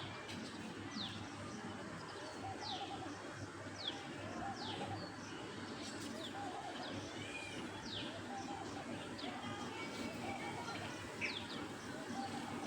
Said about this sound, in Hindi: देखो कितने प्यारे लग रहे हैं ये दोनों पक्षी।